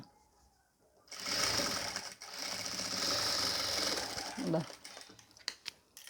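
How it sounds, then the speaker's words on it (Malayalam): A sewing machine stitches piping along the neck of a nighty in a steady, close mechanical whir with rapid needle clatter. It runs for several seconds, winds down, and ends with a few clicks and taps. "ഇതേപോലെ ഉരുട്ടി തയ്ച്ചു കൊടുക്കാം അറ്റം വരെ"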